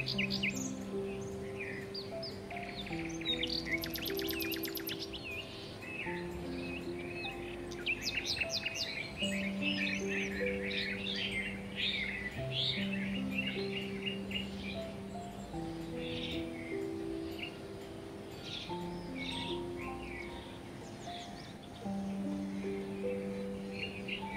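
Birds sing in an enchanted forest, several chirping and trilling calls overlapping continuously over a soft bed of sustained tones, fairly close and lively throughout.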